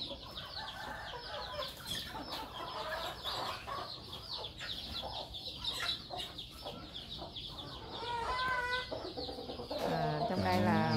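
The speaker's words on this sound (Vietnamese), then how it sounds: "Gà này là gà đi bộ," Free-range garden chickens cluck steadily and densely while pecking at tree-ripened bananas, a busy close flock with overlapping calls that grow louder toward the end, with a few words of speech.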